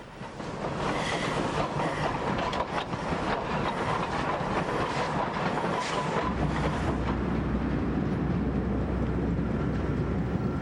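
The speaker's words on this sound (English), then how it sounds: "ride around the gardens in a steam train" A small narrow-gauge steam train rumbles steadily along the track with a continuous chugging clatter and rattle, close by and fairly loud throughout.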